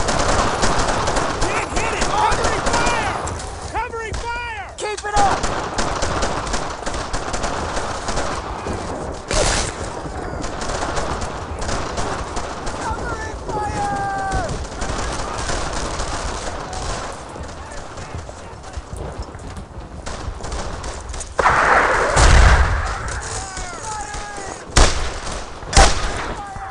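Bursts of automatic and single-shot gunfire crack through a World War II firefight in Brothers in Arms: Earned in Blood, with repeated rapid volleys, a few heavier booms and shouted soldier voices mixed in.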